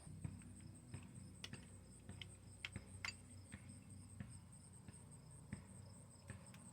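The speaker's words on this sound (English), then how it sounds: "Those crickets don't seem to ever stop." Crickets chirp on a September evening in a continuous high, steady drone. It is faint and distant, with a few soft clicks and taps scattered through it and no voices.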